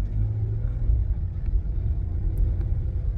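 Steady low rumble of car traffic idling and creeping through an intersection, heard from inside a vehicle, continuous and fairly loud with no talk.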